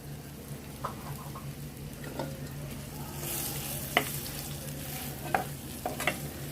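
Salted fish pieces frying in oil with chili powder and dried chilies, a steady close sizzle with occasional sharper crackles and spatters, no talking.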